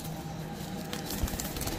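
Maxi racer pigeons coo softly at close range, a low, brief throaty call early on amid a rustling, busy background.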